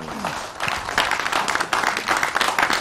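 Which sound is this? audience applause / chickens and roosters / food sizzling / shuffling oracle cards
audience applause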